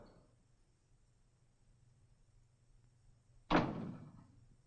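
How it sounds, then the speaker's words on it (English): A door shuts with a single solid thunk in a quiet room, a short loud impact with a brief fading tail near the end. "Close the door."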